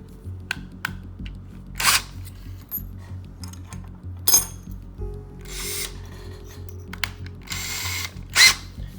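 A handheld power drill bores through a piece of wood in several short bursts, low motor whine under sharp clicks and clunks of handling, fairly close with pauses between runs and no talk.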